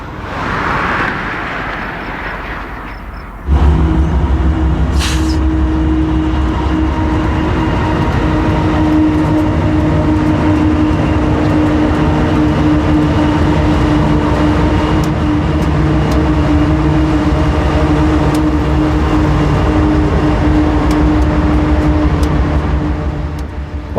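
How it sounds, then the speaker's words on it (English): A loaded coal train meets an empty coal train, starting with a quiet moment before a sudden loud, continuous rumble of rolling cars with steady low drone and rail clatter lasting to the end. "we turn to see a loaded train as it slowly approaches our position"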